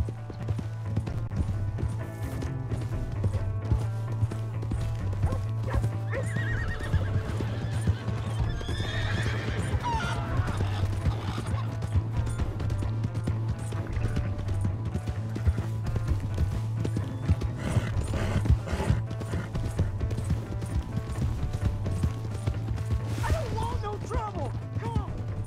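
Hooves clip-clop at a steady gallop while a horse neighs in Red Dead Redemption 2, set against game music and a low continuous hum.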